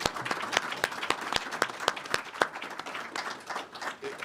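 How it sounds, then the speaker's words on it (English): Audience applause for teachers and staff at a budget announcement, brisk clapping from a modest crowd with distinct individual claps, tapering off toward the end. "I'd like to give a round of applause for those folks"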